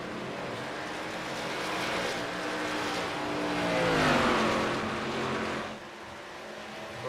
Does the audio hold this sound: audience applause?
no